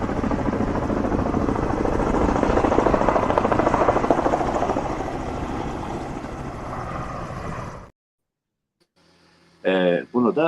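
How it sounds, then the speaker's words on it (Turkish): Firefighting helicopter flying over a forest fire, its rotor chop loud and steady for about eight seconds before cutting to near silence, then a few short bursts of other sound near the end. "Sonra bak yangın helikopteri geldi."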